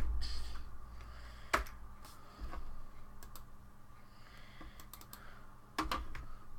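Clicking keys on a computer keyboard acting up during an art livestream, with scattered taps and a few sharper, louder clicks spaced irregularly over a quiet background hum.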